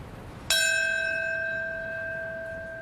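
A single church bell strike rings out during a 9/11 anniversary moment of silence, a sharp clear toll that hangs and slowly fades over about two seconds in an otherwise quiet outdoor setting.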